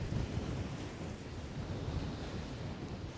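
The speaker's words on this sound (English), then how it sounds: "this raging wind pushing into the bay" Strong wind roars across the coast at Brean Down on the Bristol Channel, with steady surf washing in beneath it; the broadband rush stays loud and unbroken throughout, with no voices.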